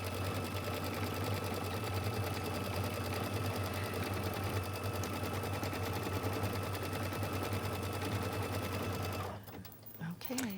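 A sewing machine stitches out a quilt block, running steadily and evenly without pause for about nine seconds before stopping abruptly near the end.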